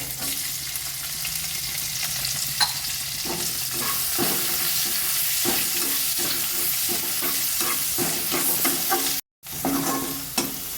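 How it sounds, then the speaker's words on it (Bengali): Two chopped onions frying in about two tablespoons of oil in a wok, a steady close sizzle with repeated stirring scrapes throughout and a brief dropout near the end. "মিনিট 2 পেঁয়াজটা ভাজার পরে পেঁয়াজটা নরম হয়ে গেছে"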